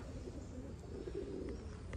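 Newly acquired Oshaban Trenton racing pigeons coo softly around their loft, low faint murmuring calls over quiet background with no talking.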